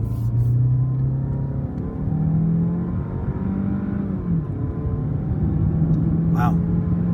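A 2019 Jeep Renegade with a 1.3 L turbo engine accelerates on a test drive, its engine note climbing steadily from inside the cabin with a brief dip mid-pull as the car keeps rumbling, while a voice talks over it.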